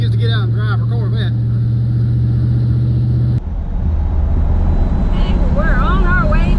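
A 1975 Corvette drives along the road, its engine a steady drone beneath people talking, with a short break in the sound partway through before the engine noise carries on.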